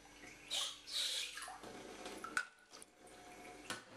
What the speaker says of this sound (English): we're just going to put some water on them